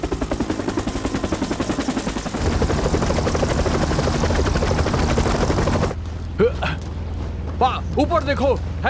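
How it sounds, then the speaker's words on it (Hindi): Helicopter approaching overhead in a Hindi-dubbed Hollywood action movie, a loud steady rotor chop that swells after a few seconds and then gives way to urgent shouted voices. "ऊपर देखो, हेलीकॉप्टर आ रहा है,"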